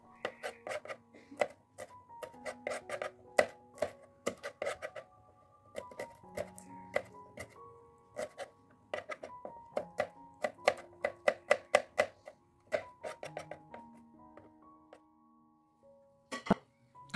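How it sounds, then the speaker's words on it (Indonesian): A knife taps repeatedly on a cutting board in quick irregular bursts while slicing shallots, garlic and chilies, close and clear, with brief pauses between runs of chopping. "aku udah selesai iris-iris bumbunya ya teman-teman"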